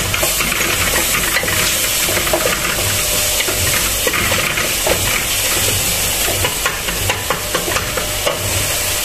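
Onions and ground ginger frying in a pan as water is added for an Indian pulao with lamb, giving a steady close sizzle and hiss with stirring scrapes throughout, no talking.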